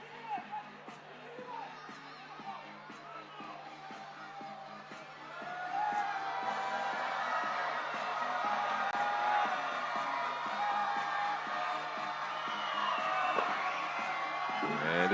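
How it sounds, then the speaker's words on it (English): Crowd at a FIBA 3x3 World Tour basketball finals in Chengdu roars steadily during free throws, a dense wash of whoops and yells that swells louder midway and stays sustained. "The crowd is making as much noise as they can."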